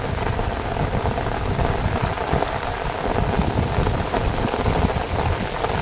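Heavy rain pours down steadily at a rural waterside spot in Cà Mau, Vietnam, a dense, loud, continuous roar with no voices.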